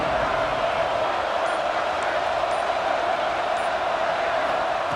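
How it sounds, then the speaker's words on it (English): A stadium crowd in EA Sports College Football 26 roars in a steady, dense wall of cheering that holds level throughout, broad and loud, with a few faint higher shouts poking through. "this crowd is ready."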